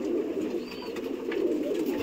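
Harina pigeons coo in a steady, close, continuous murmur with no voices.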